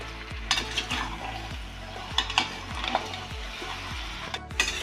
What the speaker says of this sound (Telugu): కల్లుప్పు వేసుకొని ఇట్లా బాగా కలిపిద్దాం